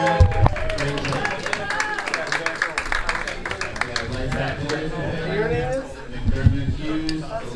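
Audience clapping at a Maryland 9-ball pool championship, a steady wash of hand claps spread across the room, mixed with crowd murmur and voices throughout.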